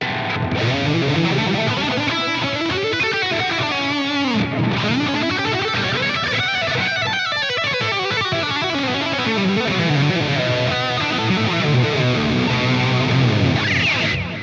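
Heavily distorted electric guitar through an All Pedal Jeff Loomis Devil's Triad pedal into an amp, playing a continuous lead line with sliding bends and sustained notes, loud and saturated throughout with no pauses.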